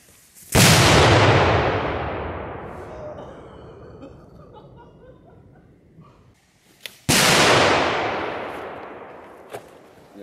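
Two loud firework blasts set off outdoors in Poland, including a Cobra firecracker; each sharp bang is followed by a long rumbling echo that fades over several seconds, with a brief pop between them.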